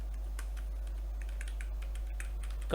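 Fingers type a Linux command on a computer keyboard while practising RHEL8 basics, a steady run of light, close key clicks over a low constant hum, ending in a slightly louder keystroke.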